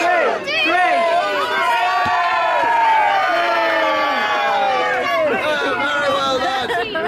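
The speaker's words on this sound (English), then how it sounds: "Cheer them all on, and on 3, you dump the tea into the sea." A crowd at a Boston Tea Party reenactment cheers and shouts loudly, with excited overlapping voices and children's yells as tea is dumped into the sea, sustained throughout.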